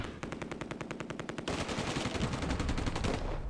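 Rapid bursts of machine-gun fire ring out in the WWII video game Close Combat: A Bridge Too Far, a dense rattling stream of shots, loud and close, with no voices.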